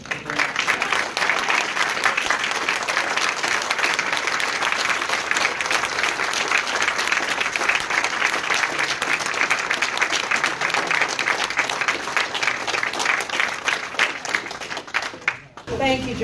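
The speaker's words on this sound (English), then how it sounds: "So if she's in this building, I want to hear your applause." Long, sustained audience applause for a colleague named Brianna at a strategic meeting, a thick, even roar of many hands from start to finish that cuts off abruptly near the end.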